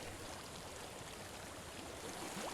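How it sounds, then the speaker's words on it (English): A soft, continuous rush of flowing water, steady and fairly quiet, with no voices. "I hear water"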